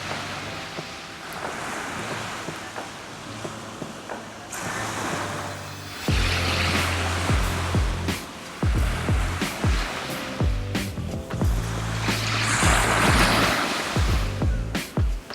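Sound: ocean waves on the shore

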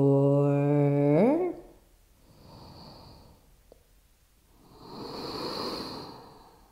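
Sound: deep resonant breathing in Ashtanga yoga class

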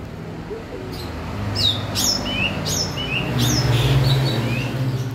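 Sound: Asian pied starling singing

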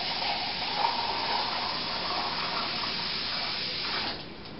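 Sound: pot of chili being filled with water

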